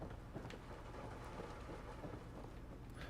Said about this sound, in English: You can hear like the rain on the roof in here.